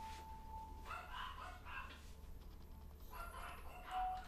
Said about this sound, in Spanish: ¿por qué tienen que ladrar